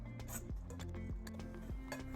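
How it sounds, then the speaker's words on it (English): Sliced cucumbers dropped into a mixing bowl of tomatoes, producing close, light clinks and soft taps against the bowl in a quick, irregular series. "Place the cucumbers in the same mixing bowl as our tomatoes."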